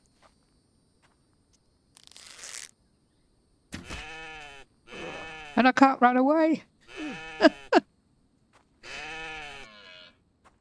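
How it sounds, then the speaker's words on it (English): A goat in the video game The Infected bleats several times in long, wavering cries, close and fairly loud, with someone speaking briefly among the calls. "And there's a goat."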